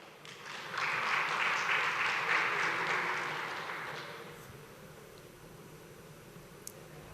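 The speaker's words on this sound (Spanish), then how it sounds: "Fuerte aplauso" A crowd applauds for a few seconds, the clapping swelling quickly and then fading gradually into quiet room noise.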